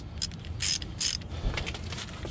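Torque wrench ratcheting on the brake caliper bolts of a 2005 Dodge Dakota during a brake pad change: a close run of quick metallic clicks, with a few louder bursts of ratcheting, and no talking.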